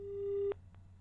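A telephone busy signal follows a hung-up call: a single steady tone that cuts off abruptly, then one short faint blip over a low line hum.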